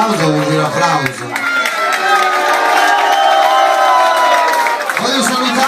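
Crowd at the Movida club cheering and shouting with some applause, loud and close, voices whooping together in a sustained roar with a shouted voice rising over it.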